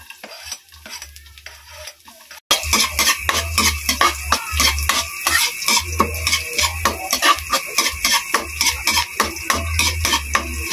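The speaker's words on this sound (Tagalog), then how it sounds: "Ayan mga guys, gisa na natin ating sibuyas." Onions are sautéed in a pan for a cabbage dish with Bingo corned beef. After a quieter opening, loud rhythmic spatula scrapes and clacks repeat rapidly over a close, steady sizzle.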